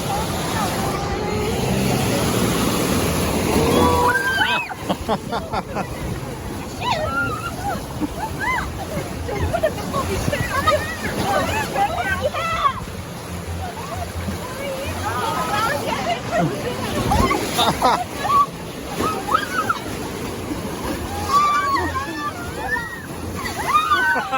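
Water sloshes and splashes around the Thunder Canyon water ride at Silverwood Theme Park, with people chattering and exclaiming over the watery rush.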